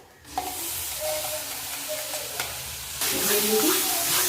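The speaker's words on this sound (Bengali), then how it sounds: "এখন পুরো হালকা আঁচ কমাইয়ে বেশ কিছুক্ষণ এইভাবে শুধু নাড়তে হবে" Ground jackfruit seed paste frying in a pan over low heat and being stirred, with a close sizzle and scraping strokes that grow louder and brighter near the end.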